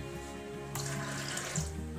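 Water poured from a glass into a pressure cooker holding soaked black chickpeas, a sudden splashing pour starting partway in over faint background hum, gurgling briefly before easing.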